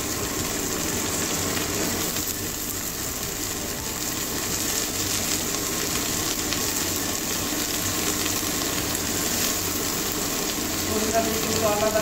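Bitter gourd with black cumin fries in hot oil in a pan, giving a steady, close hiss and sizzle that holds evenly throughout with faint bubbling crackle.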